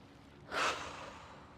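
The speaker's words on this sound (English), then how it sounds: "we'll go ahead and take some deep breaths" A single deep breath during a yoga break, a soft breathy exhale that swells briefly and then fades, close and quiet.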